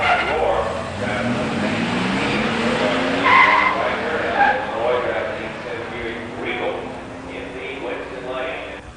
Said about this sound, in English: In the near lane, Dave Hodges 86 Mustang GT 302 5-speed. In the far lane, Ron Wagner's 87 Grand National.